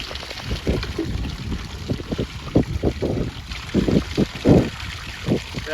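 Water drains from soaked coco peat in a container, with uneven gurgling trickles and splashy bursts close by over a steady background hiss.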